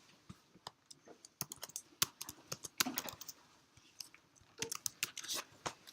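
Someone types on a computer keyboard while entering a value into a unit-conversion program, producing irregular bursts of close, crisp key clicks with short pauses between them.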